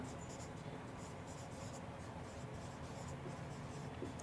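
Chalk or marker scratches steadily across a board while a maths solution is written out, a faint, continuous scraping with short strokes and no voice.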